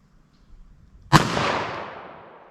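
A single sharp, loud shot from a .44 Special revolver fired single action, with a long echoing decay rolling away across an outdoor range after the crack.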